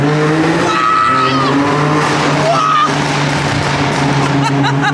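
BMW M3 tuned to 912 horsepower pulling hard, a loud steady engine drone with a rising tone and brief tire noise, heard from inside the car with no talk over it.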